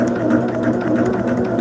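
A sewing machine stitches steadily at a slow, even pace while a quilt sampler is pieced, giving a loud, close, continuous mechanical whir.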